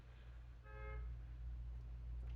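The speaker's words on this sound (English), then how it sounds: "Car honk." A single car horn toots for about a third of a second, ringing clearly above a steady low rumble of background hum.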